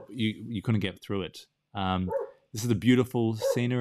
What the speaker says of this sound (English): You can hear the dogs outside